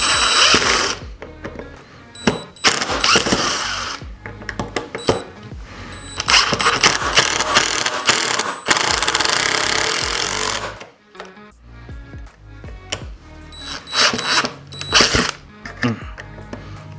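Screws driven into the joints of a wooden star, a power drill whirring in repeated bursts with ratcheting clatter and brief pauses between them, close and loud.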